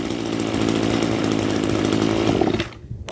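An old Echo string trimmer's two-stroke engine runs loud and steady at close range, a buzzing drone that cuts off abruptly near the end as it is shut down.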